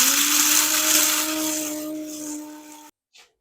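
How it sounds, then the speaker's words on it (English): A small electric spice or coffee grinder whirs loudly and close up as it crushes cardamom seeds, a steady high motor whine that runs for about three seconds, cuts off abruptly, then gives one short final blip. "I guess you can call this a spice blender, but a coffee grinder, coffee bean grinder"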